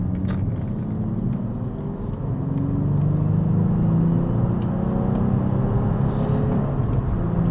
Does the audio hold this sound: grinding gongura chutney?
no